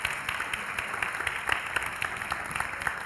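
A conference audience claps steadily and fairly softly throughout, a dense patter of many hands with no voices over it, at a mentoring summit plenary session.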